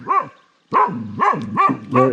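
Frightened dog, not aggressive, gives several short close barks: one yelp, a pause, then a quick run of three or four more.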